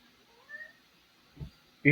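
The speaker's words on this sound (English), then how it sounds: "Hi, cat." A house cat gives a soft, thin meow, then a few brief muffled noises and a sharper sound close by at the end, all in a quiet room.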